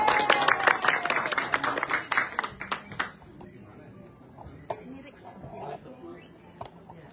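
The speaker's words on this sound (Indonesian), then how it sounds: "Dikit banget tepuk tangannya," Scattered audience applause, a burst of sharp claps from a fairly small crowd that thins out after about three seconds, followed by quieter room noise and light voices.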